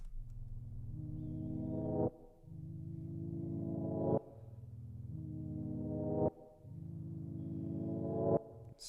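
A deep, low-pitched synth sample pitched down two octaves swells slowly in four repeating phrases, each building then cutting off sharply, quiet and alone with no voices.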